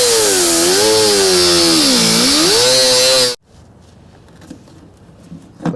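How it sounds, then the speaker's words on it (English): A grinder cutting a slit into caked screw heads on an old Chevy mule hauler: a loud, close whine rising and falling in pitch, then stopping sharply and leaving quiet scraping and clicks. "I might have to grind a slit in them for a"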